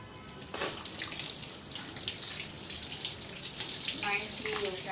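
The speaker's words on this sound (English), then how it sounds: "Now after peeling this, you have to wash this so that excess mud which is there will come out." Peeled ginger washed under a running tap, with steady splashing water close by and a few brief clinks.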